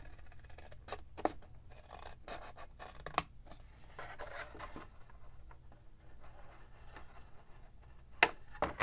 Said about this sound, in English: I'm gonna go ahead and cut this off.